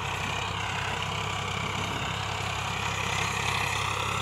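A Farmtrac 60 tractor engine runs in a steady, continuous drone with a deep low rumble and broad mechanical noise. It stays loud and close throughout, with no speech over it.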